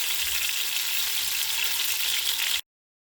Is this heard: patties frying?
yes